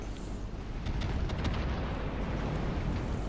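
A destroyer exploding in World of Warships, heard as a low, sustained rumbling blast that swells after the first half second and holds as a dense, fairly quiet roar with no voices.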